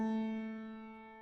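A single sustained keyboard bass note, the 6 (A) of a 1-6-2-5 progression in C, rings alone and fades slowly over its full length.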